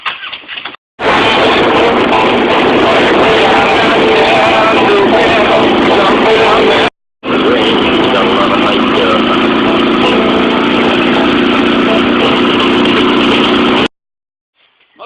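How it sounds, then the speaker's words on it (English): An old motorcycle engine starts and settles into a loud, close, steady idle that drops out briefly midway before running on, then cuts off near the end. "If I hit that starter button and it cranks up, I'm going to ride the motorcycle."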